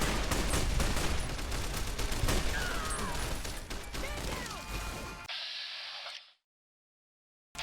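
Rapid, dense gunshots and clattering combat noise from Fallout: New Vegas fill most of the moment, fading into a brief tonal effect before cutting to silence.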